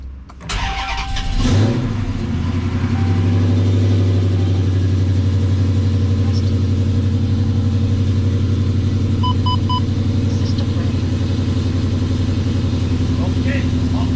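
The engine of a 2013 Dodge Charger fitted with longtube headers cranks and fires on its first startup. It then settles into a loud, steady, deep idle rumble, heard close up, with voices faintly underneath.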